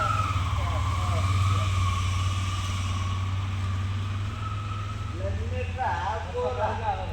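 A big truck delivering laminate arrives with a continuous low engine drone, heard nearby under people talking, with a rising tonal sweep late on.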